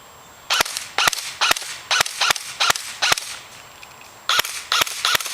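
Airsoft gun fired in a shooting test, with the hop-up switched off: about a dozen sharp, loud single shots in an uneven rhythm, a short pause, then a few more shots, all close and with no talking.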